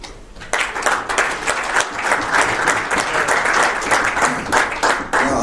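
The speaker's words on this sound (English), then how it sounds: "a big round of applause is deserved for each of our presenters" Audience applause at a formal forum, a round for the presenters: dense, sustained clapping from a large crowd that starts abruptly after a brief quiet moment and continues steadily without talk.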